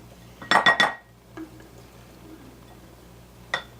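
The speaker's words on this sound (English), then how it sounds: "So we're going to scoop this out." A spoon clinks against a glass jar while scooping out firm homemade salad dressing, a quick cluster of three bright taps followed by a faint scrape and one more clink, close and alone.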